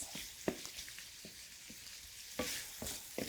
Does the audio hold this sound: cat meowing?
no